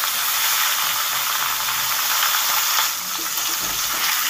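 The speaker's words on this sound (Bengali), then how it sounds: "এবার মাছগুলোকে সুন্দর করে ভেজে নেব।" Pieces of katla fish frying in hot mustard oil in a pan on a gas stove, giving a loud, steady hissing sizzle that holds unbroken throughout.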